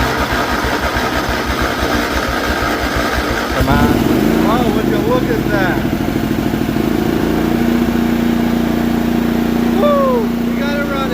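An old lawn mower engine that has sat unused for 13 years starts up and settles into a rough, loud idle after some cranking, with excited people talking over the running engine.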